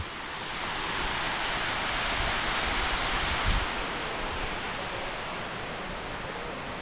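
Continuous roar of Phiang Din waterfall in Loei province's Nong Hin district, a dense, even hiss of cascading water nearby that swells slightly midway, with no talking.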